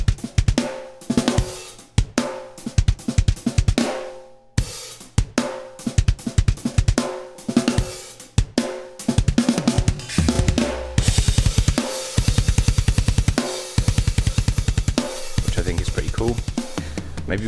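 A full drum kit played in a room: punchy kick and snare hits with cymbals, a steady groove that builds into busier, louder playing with washing cymbals.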